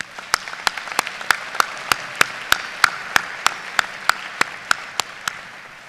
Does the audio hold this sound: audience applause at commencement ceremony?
yes